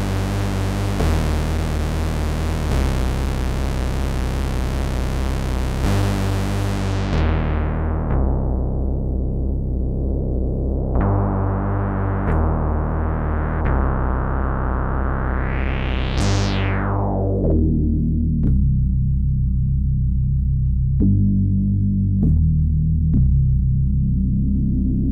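Deep, sustained analog synthesizer bass tones from a Bass Station II, shifting in pitch, with filter sweeps opening and closing the brightness; continuous and loud with no talking.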